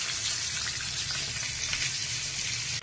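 Banana flower vada balls sizzle steadily in hot oil, a dense, continuous close-up frying hiss with no talk over it.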